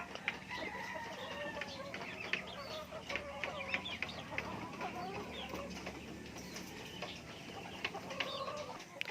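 Chickens cluck steadily around a spot where pigeons are about to be fed, a busy layer of short calls from several birds close by with no talk.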